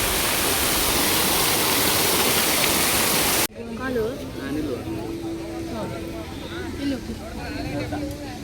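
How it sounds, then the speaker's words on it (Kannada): A waterfall pours with a loud, steady roar of falling water for the first few seconds, then cuts away to a quieter outdoor scene where people talk. "ನೀರು ಬೀಳ್ತುಂಟು."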